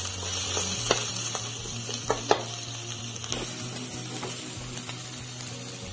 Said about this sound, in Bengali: তেলটা গরম হয়ে গেছে, পেঁয়াজ দিয়ে দিচ্ছি, মরিচ কুচি, ভালোভাবে নেড়ে চেড়ে নিব।